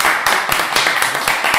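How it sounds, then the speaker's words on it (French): A small audience clapping at an inauguration gathering, loose uneven handclaps with distinct individual slaps, fairly close and moderate in level, continuing steadily across the moment. "On vous applaudit,"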